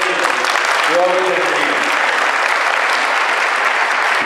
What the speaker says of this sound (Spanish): Eso, un aplauso para ustedes.